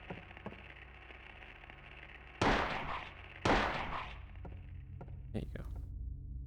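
Two loud, sharp gunshots from the PS1 game Silent Hill, about a second apart, with a fainter third shot-like burst near the end, over a steady low game drone and background hum.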